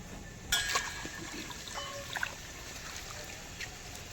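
Bhopatri greens are swished in a pot of water, giving soft trickles and a couple of brief splashes, close and fairly quiet.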